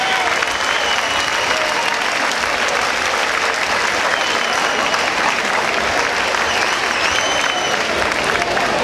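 Loud, sustained crowd applause fills a street decoration award ceremony at the Festa Major de Sants, a dense steady wash of clapping throughout with cheers mixed in.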